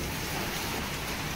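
Rain falls hard outdoors, a loud, dense, unbroken wash of noise across the whole short stretch with no voices.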